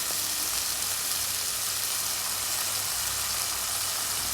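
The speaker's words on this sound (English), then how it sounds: "Saute well for 20 seconds." Steady close sizzling of mushroom masala frying in butter with crushed garlic, pepper, curry leaves, cumin paste and coriander leaves in a pan, an even hiss throughout with no talking.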